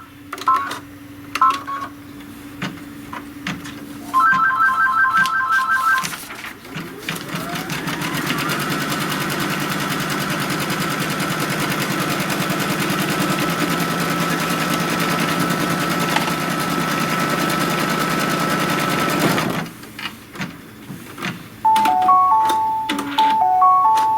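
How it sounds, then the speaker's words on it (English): Sewing machine stitches a fabric seam on a butterfly cinch sack in a long, steady run of rapid, even stitching. Short bursts of beeping and clicking come before and after the run. "And then it's going to sew the seam."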